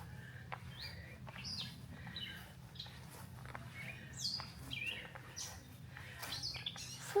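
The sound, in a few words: birds singing and warbling outdoors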